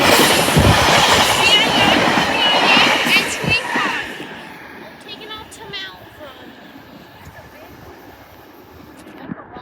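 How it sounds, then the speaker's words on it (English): A passenger train led by Silver 4 cars arrives at Elkins station with loud rolling wheels, rhythmic clickety-clack and squeal, fading as it slows to a quieter rumble. "Here is the Malvern train."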